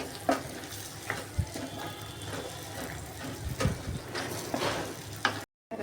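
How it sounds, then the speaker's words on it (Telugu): Cauliflower and dry salted fish curry being stirred in a pan: a spoon scrapes and knocks against the metal at intervals over a soft steady sizzle, close and fairly quiet. "ఇప్పుడు కలబెట్టేద్దాం"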